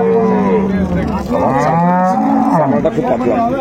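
A dairy cow at a cattle market, short of calcium, lets out a loud, close, drawn-out moo that rises and falls, followed by a shorter second bellow.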